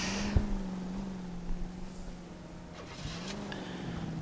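A car engine in LA Noire idles and revs, steady mid-low drone with a couple of brief throttle swells, heard close and alone without talk.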